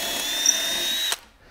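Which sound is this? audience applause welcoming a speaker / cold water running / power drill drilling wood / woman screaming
power drill drilling wood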